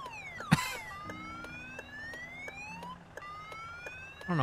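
In Bus Driving Sim 22, an ambulance siren wails, sweeping up and down in pitch over a steady low drone, with a sharp thump near the start and clicking at the end.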